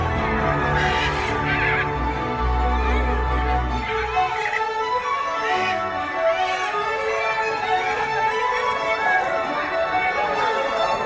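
Macaws fly over an outdoor show area at Disney's Animal Kingdom, Tree of Life, giving loud harsh squawks and caws that sweep overhead, loudest at first and then trailing off, with some crowd noise underneath.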